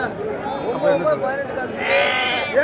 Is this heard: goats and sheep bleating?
yes